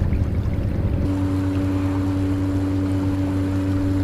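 A Bixby electric motor pushing an Old Town Sportsman boat at full throttle, a loud steady motor hum over rushing water and wake, continuous with no talking.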